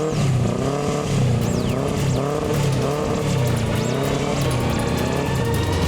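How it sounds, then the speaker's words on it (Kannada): A motorbike engine starts and revs close by. A loud, rising and falling roar with wavering pitch runs throughout, and a few high whining squeals cut in. "ಬೈಕ್ ಸ್ಟಾರ್ಟ್ ಆಗೋಯ್ತು."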